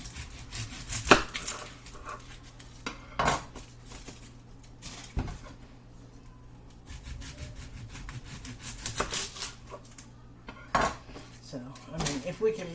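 Onions being cut up in a home kitchen, with irregular knife taps and clunks on a board and the rub of utensils, fairly close, with quieter pauses in between.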